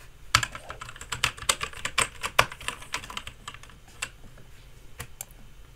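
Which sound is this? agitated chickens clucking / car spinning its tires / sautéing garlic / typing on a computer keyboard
typing on a computer keyboard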